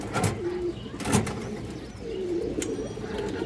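Big-headed domestic pigeons of show-line breeds coo in a few soft, low rolling phrases, close by, with faint background noise and brief sharp clicks.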